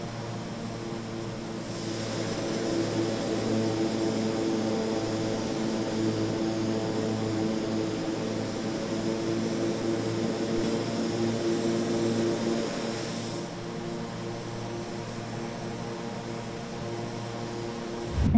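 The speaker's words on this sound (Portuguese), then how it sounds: "Vamos ligar o avião para você conferir o pacote de som dessa aeronave." A turboprop aircraft engine in Microsoft Flight Simulator 2024 drones steadily with a layered tonal hum and whine, swelling up and holding constant before easing back slightly near the end.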